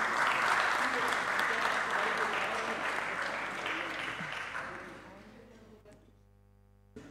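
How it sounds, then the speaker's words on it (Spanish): An audience at a certificate ceremony for a deputy applauds in a full, sustained burst that gradually fades out over several seconds, followed by a short musical tone and near silence. "Pueden aplaudir al diputado."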